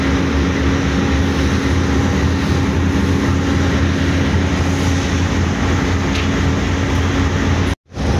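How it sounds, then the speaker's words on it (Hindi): The Bahauddin Zakariya Express pulled by its locomotive at Hyderabad junction, a loud, steady rumble with a constant tonal hum that cuts off briefly near the end. "तो आउटर भी लगे लीड कर रहा था AG 30 6013 लोकोमोटिव।"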